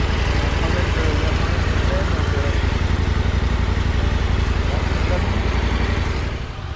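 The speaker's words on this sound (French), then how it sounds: "Stéphane qui vient de me doubler par la droite, paf, la moto s'arrête net" Rally motorcycle engine on a December raid in Provence running loud and close with a steady, throbbing drone, the sound dipping away only in the final half second as the bike cuts out.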